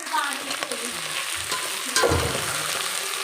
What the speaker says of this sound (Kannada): ಕ್ಯಾರೆಟ್ ಆಲೂಗಡ್ಡೆ ಬೀನ್ಸು ಎಲ್ಲನೂ ಚೆನ್ನಾಗಿ ಫ್ರೈ ಮಾಡ್ಕೋಬೇಕು